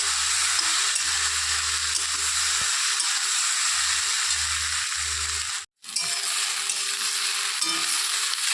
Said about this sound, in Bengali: সয়াবিন দিয়ে ভালো করে নেড়ে চেড়ে ভেজে নেবো